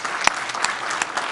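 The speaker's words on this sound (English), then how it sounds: "Let's give him a round of applause." Brief applause at a school board meeting honoring a student, a short burst of scattered clapping from a room of attendees with one sharp nearby clap.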